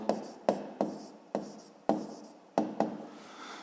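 Pen writing by hand in a notebook during a fifth-grade maths exercise, a series of short scratchy strokes in uneven bursts, close and fairly quiet, with no talking.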